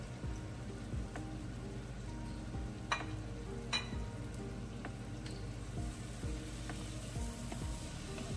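Fried dried fish (shutki) dropped into a hot pan, giving a steady low sizzle and crackle with a few sharper pops and scrapes, close and moderately quiet, no talk.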